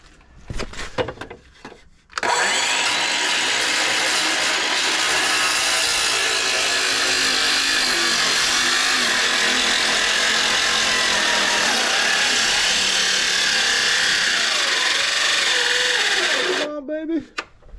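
A cordless DeWalt power saw cutting a wooden scaffold plank, one loud continuous whine lasting about fourteen seconds with brief handling and scraping noises before and after.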